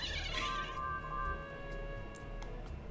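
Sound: cat screaming in the background

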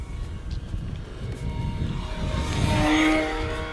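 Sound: E-Flite Decathlon RC airplane flying on 4S battery

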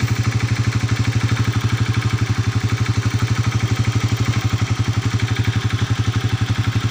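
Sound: Honda TMX 125 motorcycle engine revving

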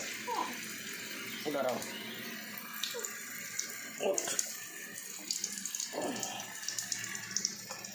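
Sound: water running from a tap being turned

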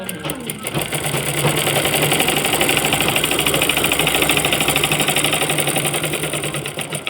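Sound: sewing machine stitching a palazzo

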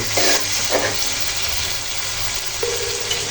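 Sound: stirring boal fish curry with tomato and peas in a wok

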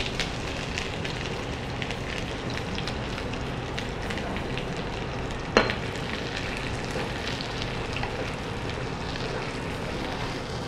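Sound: onion frying in hot oil

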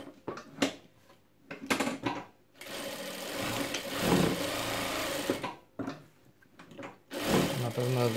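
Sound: Jack F4 sewing machine sewing

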